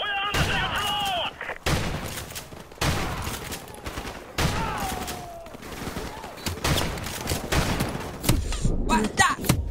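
Video game gunfire in heavy, repeated bursts and loud cracks throughout, with shouted voices over parts of it.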